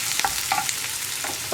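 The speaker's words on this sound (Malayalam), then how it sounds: "ഇത്രയും ചേർത്തിട്ട് നന്നായിട്ടൊന്ന് ഇളക്കി കൊടുക്കുക." Sliced onions with green chillies sautéing in a pan, stirred with a spoon; soft scraping strokes repeat over a steady low sizzle, close by, with no voices.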